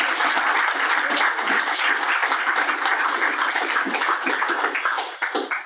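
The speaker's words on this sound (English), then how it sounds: "Clap for Kelly real fast." A crowd at a Libertarian Party mixer in California claps steadily for several seconds, dense and loud throughout, before tapering off slightly at the end.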